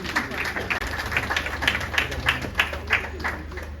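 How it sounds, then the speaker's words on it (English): Crowd applause at a 60th birthday and book launch event in Lagos, continuous clapping with rhythmic peaks from a large audience, a voice heard faintly underneath. "Please, a big round of applause for him,"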